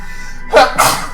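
A single sharp sneeze close by, a quick two-part burst that breaks a steady quiet background.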